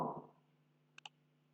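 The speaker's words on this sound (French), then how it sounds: "Alors, je clique sur Format." Two quick, faint mouse clicks close together over a quiet room hum, with no one talking, as a Format option is selected in Excel.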